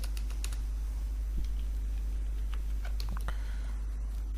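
Typing and mouse clicks at a computer during Excel spreadsheet work, a run of light, irregular key and click taps over a constant low hum, with no voices.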